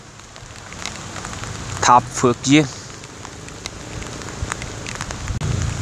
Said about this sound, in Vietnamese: mặc dù trời mưa